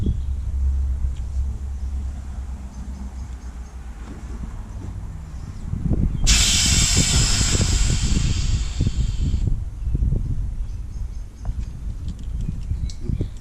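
Steady air hiss from inflating a Talamex QLA 270 inflatable boat, loud and close for about three seconds over a windy outdoor rumble, with lower gusty noise before and after.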